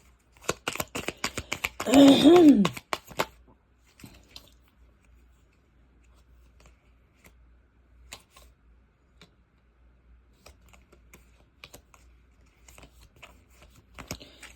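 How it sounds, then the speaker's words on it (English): A brief burst of cards being shuffled close by, a quick riffle lasting about a second, followed by faint scattered ticks and card handling in a quiet room. "I need to shuffle these a little better next time"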